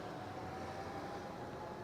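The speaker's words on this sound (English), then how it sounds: "you can hear the switch gear and stuff back there purring away." A steady low electrical hum from switchgear at an electric vehicle charging station, with a faint tonal whine, continuous and unchanging, with no voices.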